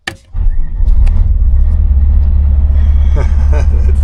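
A Detroit Diesel 8V71 bus engine cranks and catches at the start, then settles into a loud, steady, deep diesel idle rumble that fills the rest of the clip.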